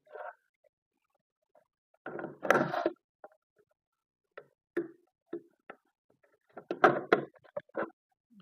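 A CCTV DVR unit's cover being closed after work inside: scattered clicks, taps and a short cluster of metallic knocks and scrapes, close and fairly quiet, with pauses between, no talking.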